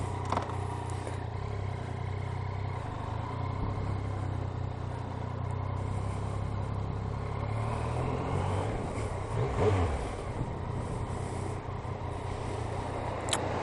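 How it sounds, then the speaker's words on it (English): A 2017 Yamaha FZ09 motorcycle on its stock exhaust rides steadily, its engine droning with wind rush throughout and a brief surge of revs and clatter near the end, with no voices. "Gotta love a stock exhaust."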